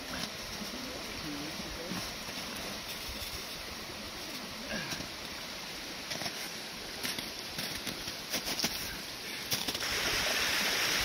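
Steady broadband rushing of high, flowing creek water in Skunk Hollow fills the scene, with faint talking underneath and the flow growing louder near the end.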